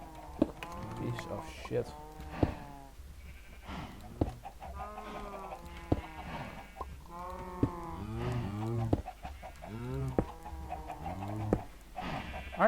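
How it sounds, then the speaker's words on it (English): Cows in a Minecraft-style block-building game moo repeatedly in long, drawn-out calls, with clucking chickens mixed in, while a man mutters and swears quietly beneath the animal noise. "Aren't those cows noisy?"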